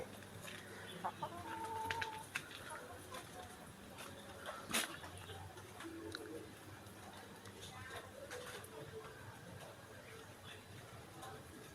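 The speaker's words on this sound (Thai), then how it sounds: "ก็ให้อาหารไก่ได้" Chickens cluck and call at a feeding area in a garden beside a temple in Chiang Mai, with scattered bird sounds and a murmur of voices around them.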